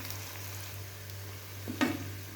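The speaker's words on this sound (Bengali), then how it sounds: "একটু ভাজা ভাজা করে নিব।" Faint, steady sizzle of food frying in a pan for a home-style Ramadan sehri dish, with a low hum throughout and one brief clatter near the end.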